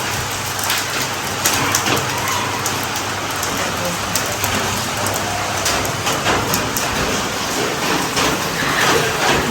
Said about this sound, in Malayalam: മഴ ഇങ്ങനെ തൂളിക്കൊണ്ടിരിക്കുകയാണ്